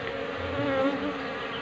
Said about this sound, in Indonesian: Jadi bisa dilihat dari koloni atau lebah pekerjanya itu ya,